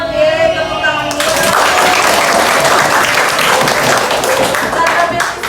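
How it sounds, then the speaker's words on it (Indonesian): Group of students clapping in applause in a classroom after a classmate answers a question about bullying, loud sustained clapping for several seconds following a brief voice at the start. "Tepuk tangan dulu."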